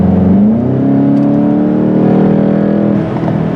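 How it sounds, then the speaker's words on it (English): A Volkswagen GTI engine revs hard while driving, a loud rising whine climbing steadily through the gears of its dual-clutch transmission, then easing off near the end. "Wow. Listen to that engine, man."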